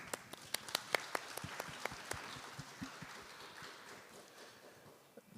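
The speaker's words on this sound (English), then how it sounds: "There's some applause. Let's give her some more." Scattered applause from a small group at a conference in the Bahamas, sharp individual claps early on thinning out toward the end, heard from a moderate distance.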